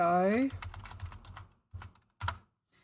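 Bursts of computer keyboard typing come in short clusters of quick keystrokes with pauses between, close and moderately loud, after a brief vocal tone at the start.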